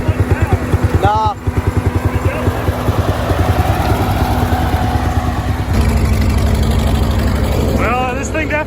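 An old Oliver tractor bought for $600 runs with a loud, steady, throbbing engine note up close, its rapid low firing pulses continuing throughout, with voices faintly under the engine noise.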